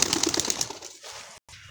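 A pigeon, a fancy-bred bird from the Punjab side, gives a brief, soft cooing call close by, fading after about a second with no talking over it.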